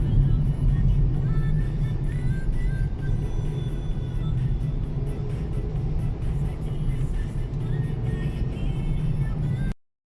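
Continuous road traffic near a factory on Mactan, where workers pour out, forms a dense, loud, unbroken rumble of engines and tyres that runs steadily for about ten seconds before cutting off abruptly.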